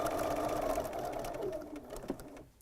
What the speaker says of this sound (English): I'm going to do just a little bit wider stitch on my satin stitch here